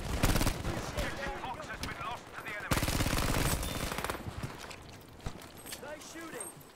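Rapid machine-gun bursts and single shots crack through a Battlefield V multiplayer match, loud and dense at the start, pausing briefly, then resuming with sporadic firing while players talk over the combat.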